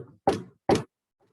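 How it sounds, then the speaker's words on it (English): Two firm knocks on the front door of a seller's home, evenly spaced, close and loud, with silence between and after. "Now I knock on Diane's door."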